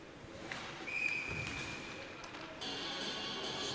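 Referee's whistle at an elite ice hockey game: a single sharp, high whistle blast about a second long rises over the steady arena crowd noise, followed by more rink bustle.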